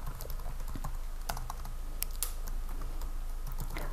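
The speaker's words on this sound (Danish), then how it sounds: "Jeg skriver min e-mailadresse." Fingers type an email address on a computer keyboard, a steady run of quick, close key clicks with irregular spacing and no talking.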